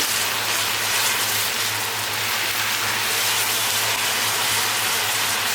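A steady, dense bubbling and hissing of a milk mixture for trileçe boiling vigorously in a pot, with a low hum underneath.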